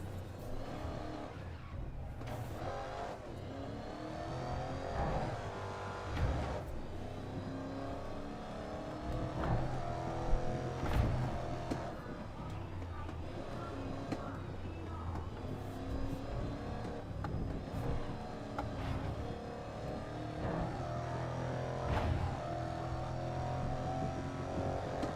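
A truck engine revs hard and steadily in the Grid Legends racing game, its loud broadband roar rising and falling continuously with no pauses and no voices.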